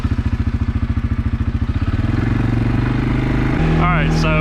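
A 2022 CFORCE 500 off-road vehicle engine pulsing with a rapid, loud thumping idle that smooths into a rising rev as it pulls away, close up, with no talk.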